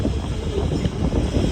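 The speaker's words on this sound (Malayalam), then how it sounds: "നല്ല തണുത്ത കാറ്റടിക്കാൻ തുടങ്ങി." Cold wind blows on a hill road near Ooty, heard as a loud, continuous low rumble that buffets the microphone throughout, with no one speaking.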